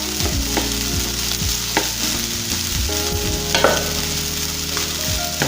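SPAM fried rice stirred and fried in a pan, a steady close sizzle with repeated scraping and clanking of a utensil against the pan, with no talking.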